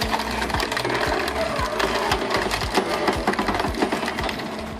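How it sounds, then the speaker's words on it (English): A firewood processing machine runs loudly and steadily, its mechanical drone punctuated by repeated low thumps and cracks as logs are split one after another. "Listening to the sound of wood being split, you can clearly see the power of this firewood processing machine."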